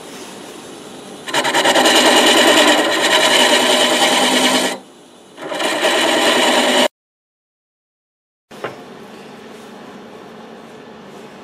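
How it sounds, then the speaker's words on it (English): A round carbide tool hollows the end grain of a locust wood goblet on a lathe, giving a loud rasping scrape in two long passes, then silence, then a fainter renewed cut. "I'm going to use this round carbide as kind of a hollowing tool"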